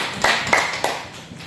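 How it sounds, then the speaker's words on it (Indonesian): Scattered claps from a church congregation, a few sharp hand strikes ringing out close by over a short stretch with no voices. "Boleh tepuk tangan."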